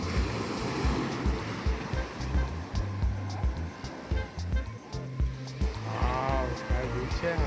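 Sea waves wash continuously onto the shore at Anjuna Beach in North Goa, with rolling surf and some wind rumble on the microphone; voices briefly rise above the surf.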